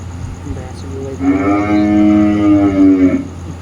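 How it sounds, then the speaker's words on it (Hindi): A buffalo lets out one loud, drawn-out moo lasting about two seconds, close by and clear over a low background hum. "भैंस भी"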